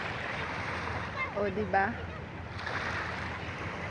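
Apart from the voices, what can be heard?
sea waves on the shore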